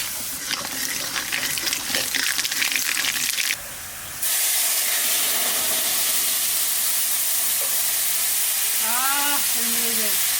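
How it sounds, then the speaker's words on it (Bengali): Dry red chillies and mustard seeds hit hot oil while tempering sour dal with raw mango, giving a loud, steady close sizzle and crackle that runs through the whole stretch, with a brief dip partway. "তেলের পর দিয়ে দেবো শুকনো লঙ্কা"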